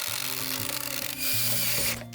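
An impact driver bores a hole with a drill bit in a carpenter's house-extension work: a steady close motor whine with a pitch change partway through, then it winds down.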